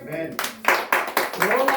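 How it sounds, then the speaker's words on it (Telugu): A church congregation claps along during a sermon in a steady, rhythmic beat of about four claps per second. The clapping is fairly close and moderately loud, with a voice carrying over it. "చప్పట్లు కొట్టండి"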